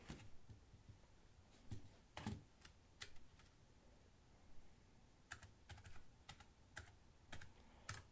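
Someone types on a Kano computer keyboard in short bursts of clicking keys, with brief pauses between runs, close by in a quiet room.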